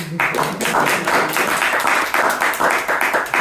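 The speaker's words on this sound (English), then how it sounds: "Very, very, very timid clapping." Sparse, hesitant clapping from a small audience at a talk, a loose irregular patter of individual hand claps continuing steadily throughout.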